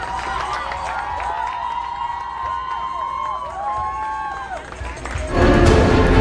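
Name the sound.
crowd assembled for Pope Francis in Washington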